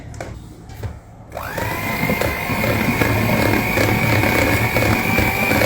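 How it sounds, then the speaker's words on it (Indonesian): An electric mixer whirs steadily through Lotus Biscoff biscuits and cream cheese, starting up after a second of quiet clatter and then running as a continuous, close, loud motor drone with no voices. "Nah ini kita mixer juga ya, nggak apa-apa ya."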